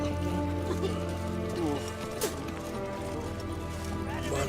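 Roach, the horse in The Witcher 3 video game, runs with rhythmic hoofbeats under game music and ambience; a voice speaks over it, and a brief whinny may come near the middle.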